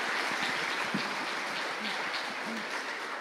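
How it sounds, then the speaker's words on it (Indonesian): Applause from the audience at a talk show with the Governor of Central Papua, a faint, even patter of clapping heard from a distance, with a few murmured voices underneath. "kamu tepuk tangan dulu"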